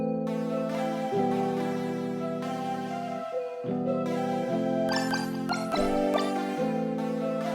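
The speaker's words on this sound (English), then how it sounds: "The one drop is a Synth Pluck." Synth pluck patch from the Zenology JD-800 bank plays a looping melodic pattern of short bright plucks over sustained bass notes, fairly quiet and steady with no talking.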